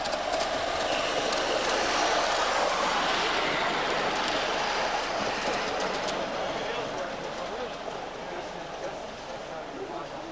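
A 3.5-inch gauge model locomotive of the Titch type hauls a goods train around a layout at a model engineering exhibition. It gives a steady rumble and hiss, half buried under continuous crowd chatter.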